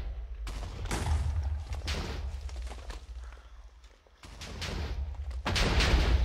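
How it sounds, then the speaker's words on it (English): A spray cannon fires in the Minecraft Bomb Lobbers game as a series of dense, booming bursts with a rushing spray-like tail, loud and close, broken by a short lull before the blasts resume. "Yeah, the spray cannon."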